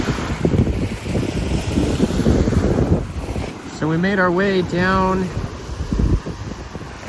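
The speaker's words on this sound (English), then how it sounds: "Very windy out here" Strong wind gusts across the shore by the cold March ocean and swampy ground, a steady loud roar buffeting the microphone, with a voice speaking briefly partway through.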